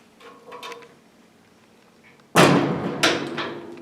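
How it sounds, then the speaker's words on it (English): A TV stand's tempered glass door is handled: light clicks and rattles at first, then a sharp, loud knock or thud of the door moving, followed by a second clatter and a brief ring-out. "We're going to pull the handle out, twist, and our opening tempered glass door."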